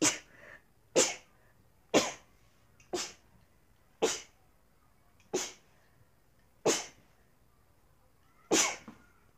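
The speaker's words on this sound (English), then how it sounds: "Oh, I do sneeze." A rapid series of about eight sharp sneezes, each a short explosive burst, repeating roughly once per second with quiet gaps between.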